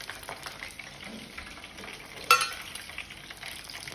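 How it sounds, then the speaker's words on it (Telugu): Poornalu, stuffed dumplings dipped in batter, deep fry in oil, a soft, steady bubbling sizzle at moderate distance, with one brief sharp clink about halfway through. "దాంట్లో సగం వరకు నూనె వేసి ఇవి మునిగేటట్టుగా ఈ విధంగా మనము వీటిని ఈ పిండిలో కలిపి ఇలా పూర్ణాలు వేసుకోవాలి"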